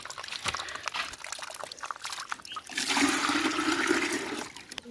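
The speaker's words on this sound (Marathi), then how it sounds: "हे बघा पाणी असं येते." Water running out of a pipe behind a Konkan house toward coconut trees, scattered drips and trickles first, then a steady close gushing stream that fills the second half.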